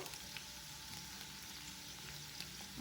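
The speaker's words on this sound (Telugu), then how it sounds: "వెల్లుల్లి కొద్దిగా వేగుతున్నప్పుడు శనగపప్పు, మినపప్పు," Garlic, chana dal and urad dal frying in hot oil for a chintakaya pachadi, giving a soft, steady sizzle that holds evenly throughout with no talk.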